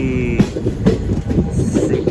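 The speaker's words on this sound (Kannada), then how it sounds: "ಟ್ರೈನ್ ಓಡ್ತಾ ಇದೆ." A train rumbles along with a loud, continuous roar and rhythmic rattling clacks of wheels over rail joints, close and steady.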